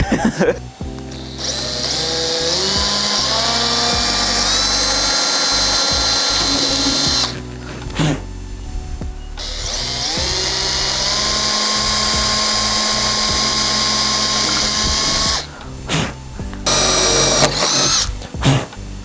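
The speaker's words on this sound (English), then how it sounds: "so the drilling's done" A power drill whines loudly in long, sustained bursts while drilling holes for carbon fibre trunk and spoiler parts on a Mustang, its pitch rising and falling as it bites in, with brief pauses between runs and no talking.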